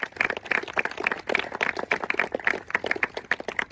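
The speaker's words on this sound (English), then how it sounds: "big round of applause for Dave Pratt." An outdoor audience at a bench dedication claps in a fairly close, uneven patter of individual hands, steady for a few seconds without cheering.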